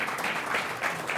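Brief burst of audience applause for the speakers at a brewery talk event at Golden Road, steady, fairly close clapping over about a second.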